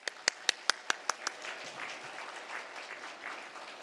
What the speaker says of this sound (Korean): 오늘 이 환영과 감사의 박수, 우리 축복의 박수 하도록 하겠습니다.